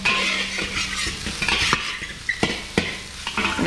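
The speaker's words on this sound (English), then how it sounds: "I'm gonna let this fry for a little bit together." Rice frying in a pan, a steady close sizzle with occasional scrapes and knocks as a utensil stirs the grains against the pan.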